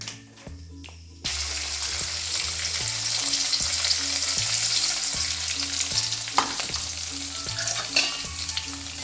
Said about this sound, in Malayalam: നമുക്ക് കടുക് പൊട്ടിച്ചെടുക്കാം.